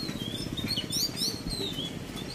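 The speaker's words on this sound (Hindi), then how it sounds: "चिड़िया चहक रही है" Small birds chirp and tweet in quick, high bright calls outdoors near a railway station colony, heard over a steady low rumble of street noise.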